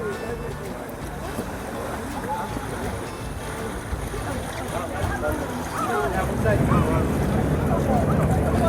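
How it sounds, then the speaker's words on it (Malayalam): A passenger boat docking on Lake Windermere in England: a steady, close engine-and-water rumble with wind buffeting the microphone, swelling louder near the end, with voices in the background. "നമ്മളിവിടേക്കാണ് ബോട്ട് അടുപ്പിച്ചുകൊണ്ടിരിക്കുകയാണ്"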